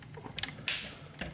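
Plastic joints of a TF Dream Factory GOD-01 Energy Warrior toy robot being turned, making a few quick, close ratcheting clicks followed by a brief creaking scrape and one more click.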